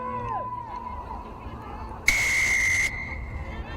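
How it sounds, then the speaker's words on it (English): A referee's whistle sounds one long, shrill blast to kick off an Italy versus France women's U18 rugby match, over crowd murmur and commentary. "Whistle blows."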